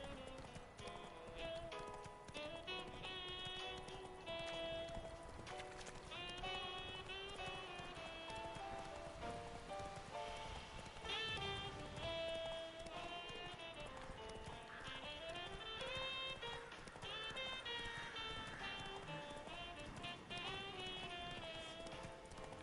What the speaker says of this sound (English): Not so fast, Roach. Slow now. Whoa